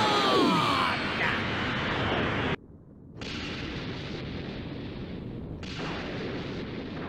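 An explosion in the video game Dragon Ball Xenoverse 2 gives a dense, roaring burst of noise that cuts out abruptly, then resumes as a sustained rumbling blast with a second surge near the end.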